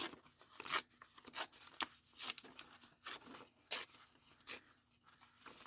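Repeated short ripping sounds, quiet and close, come in irregular bursts as material is torn apart by hand.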